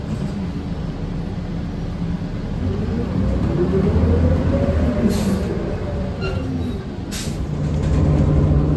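Riding inside a 2019 Ride On Extra bus on the Lime route in Maryland, a steady loud road and engine rumble that swells in places, with brief high hissing or squeaking bursts.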